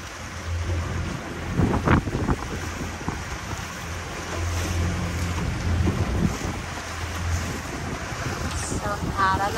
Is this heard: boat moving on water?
yes